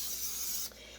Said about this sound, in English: We are going to spray our pan with the nonstick spray.